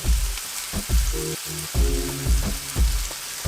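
A vegetable omelette fries in a pan with a loud, close sizzle, punctuated by repeated low thumps and short tonal scrapes as it is handled, and no one speaks.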